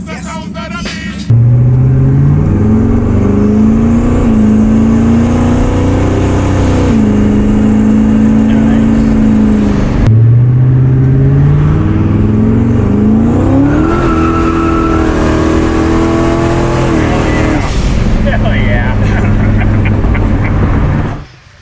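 A turbocharged Lincoln Town Car engine revs and climbs through rising gears, loud and close, with a steady droning roar throughout and no talking.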